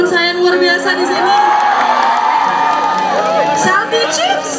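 A live concert crowd at a culinary bazaar in Makassar cheers, whoops and claps continuously, loud and close, with shouts rising through the noise and a voice carrying over it.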